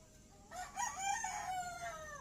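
A medium-sized gamecock rooster crows once, a long rising-and-falling call heard at moderate distance over a steady background hum.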